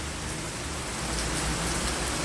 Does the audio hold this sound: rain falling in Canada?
yes